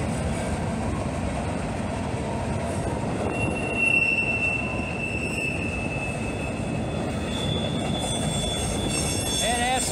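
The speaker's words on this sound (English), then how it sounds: "Lumber cars on this thing. Scrap metal, hopper, gondola thing. Some articulated auto racks." A long freight train hauling lumber cars, scrap-metal hoppers, gondolas and articulated auto racks rumbles steadily past at close range, with a continuous loud wheel roar and high, drawn-out wheel squeals rising and fading throughout.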